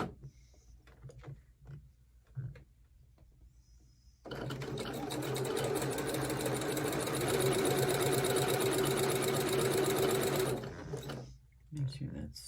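A sewing machine stitches a quilt block for a snail trail sampler quilt, whirring loud and steady for about six seconds after quiet handling sounds and a brief start.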